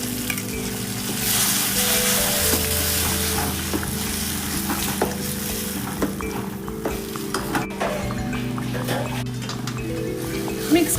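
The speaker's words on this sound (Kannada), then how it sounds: "ರುಬ್ಬಿಟ್ಕೊಂಡಿರೋಂಥ ಕಾಯಿ ಮತ್ತು ಖಾರದ ಪುಡಿ ಮಸಾಲೆ ಸ್ವಲ್ಪ ಎಣ್ಣೆನಲ್ಲಿ ಫ್ರೈ ಮಾಡ್ಕೋಬೇಕು" Ground coconut and chilli masala paste sizzles steadily in a little oil for hotel-style sambar, a continuous close frying hiss with light clinks of a spoon against the pan throughout.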